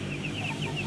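Broiler chickens in a small backyard flock of about fifteen birds, clucking softly and repeatedly at close range over a steady barnyard murmur, with no talk.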